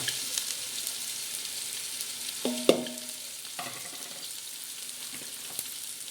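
Onion and tomato fry in a pan for chicken pulao with an even, moderately loud sizzle, a few sharp clinks and scrapes from stirring near the middle, and no speech.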